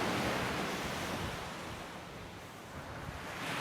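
Surf washes steadily onto a beach during a walk, a soft, continuous rush of breaking waves mixed with wind, fairly faint and with no voices.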